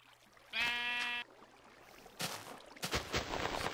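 A sheep in the video game Minecraft lets out a clear, wavering bleat lasting under a second, followed by a few soft splashy rustling noises, near and fairly quiet, with no one talking.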